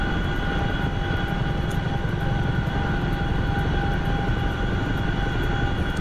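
A Chinook helicopter in a flight simulator game in winter conditions, with a loud, steady engine and rotor drone that holds constant throughout.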